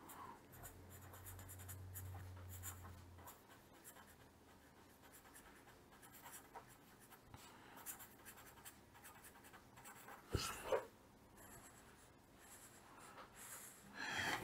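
Chalk or marker scratching on a board during a lesson about fuses, soft strokes in short runs, faint and close, with a few louder bumps near the end.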